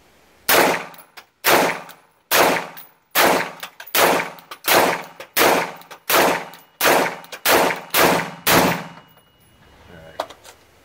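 Sig MCX rifle fired in a steady string of about fourteen loud, sharp shots at roughly even intervals, each with a short ringing tail, followed by a faint trailing noise.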